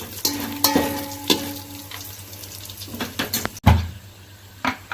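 Spices with green chillies, carrot and tomato frying in a hot pan, a steady close sizzle broken by sharp clanks and scrapes of a spoon stirring against the metal.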